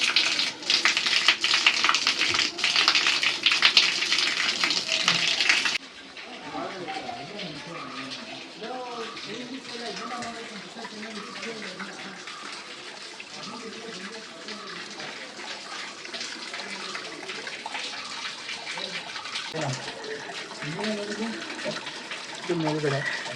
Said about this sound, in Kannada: ನಂದಿಯಿಂದ ನೀರು ಬರ್ತಾ ಇದೆ.